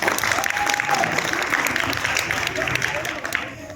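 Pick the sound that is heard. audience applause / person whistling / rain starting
audience applause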